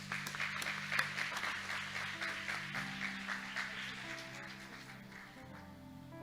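Applause during a Sunday church service rises right after a closing prayer, a moderate crowd clapping steadily for several seconds, somewhat distant in a reverberant hall, with low murmuring and an organ or keyboard tone beneath.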